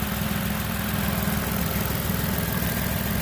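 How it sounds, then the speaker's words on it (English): A tired-running 3.5-litre engine in a 2005 Nissan Murano SE idles under the open hood, a steady, close, low rumbling drone that holds an even level throughout with no voices. "The motor's running, but she's really tired."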